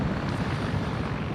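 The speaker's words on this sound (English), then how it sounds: "I'm making these fucking helicopter passes to provide ambient." Helicopter in Arma 3 passing overhead, a dense, loud, continuous rotor and engine roar with no talking over it.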